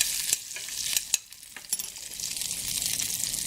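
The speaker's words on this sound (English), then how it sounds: "these veggies are making too much noise, so just stir them" Sliced vegetables for veggie tacos sizzle steadily in a hot pan, with a bright, hissing crackle and a few sharp scraping clicks as they are stirred, close up and with no talk over it.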